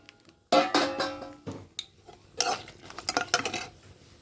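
Utensils scrape and clatter against a pan as mint chutney ingredients are stirred and lifted out after frying, a run of close, irregular metallic strokes with short pauses and no voices.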